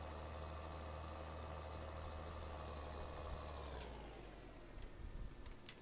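A tractor engine idles in the Farming Simulator 2013 video game, a steady low rumble with no talk that eases and softens toward the end.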